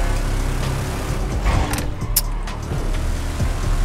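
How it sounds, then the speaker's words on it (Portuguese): Honda NC 700 motorcycle engine in the video game GTA V, a steady low engine drone running throughout at close range, with a few brief higher mechanical whirs near the middle and no talking. "Essa moto é muito forte, rapaziada."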